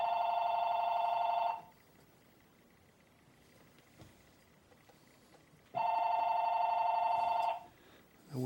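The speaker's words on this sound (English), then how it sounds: "Forgot to turn my phone off." A telephone rings twice during a woodcarving session, each ring a loud, steady electronic tone lasting about a second and a half, with a quiet gap of room noise and a faint tap between the rings.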